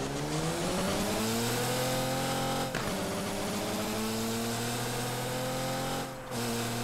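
A car revving up in the mobile game Car Parking Multiplayer, engine pitch climbing steadily through gear changes with brief dips at each shift, loud and continuous with no talk.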